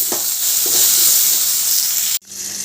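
A small chopped tomato goes into a hot pan of oil with ginger paste and is stirred, giving a loud, steady sizzle with a few scraping stirs before the sound cuts off abruptly near the end.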